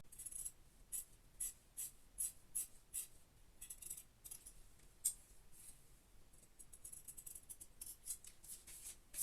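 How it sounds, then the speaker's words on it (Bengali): Scissors snip through fabric for a bell sleeve in a run of sharp, close, fairly faint cuts, quick and uneven at first, then a steadier patter of smaller snips, with no talking. "এখন আমি তালপাটের অংশটা কেটে নিব।"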